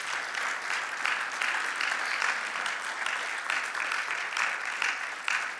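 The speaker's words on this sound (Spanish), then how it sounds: "Dale un aplauso de alabanza al Señor" A church congregation applauds in praise of the Lord with sustained, dense clapping that swells and eases in rhythmic waves, close and fairly loud, without speech.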